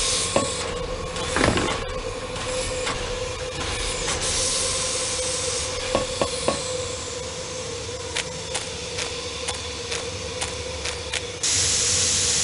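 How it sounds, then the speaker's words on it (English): A steady, loud broadband hiss of escaping steam fills the space for the whole stretch, punctuated by a few sharp clanks and taps, with a brief burst near the start and a brighter shift toward the end. "This must be where the steam is escaping."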